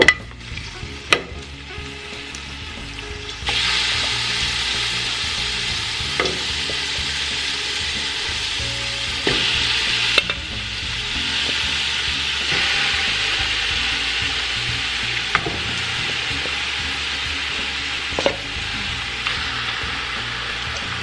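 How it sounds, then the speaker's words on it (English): Meat frying in a little oil in a pot, a sudden loud sizzle that settles into a steady hiss with occasional scrapes and clicks of stirring, no voices. "Add some oil here in this pot, just a little bit of oil, and add my clean meat."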